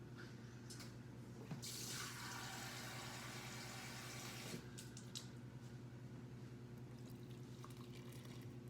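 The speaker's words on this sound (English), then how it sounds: "Next, I'm gonna make sure I fill my water up." Water runs from a tap into a container for a baking project, a steady close pour with a louder rushing stretch in the middle, no talking.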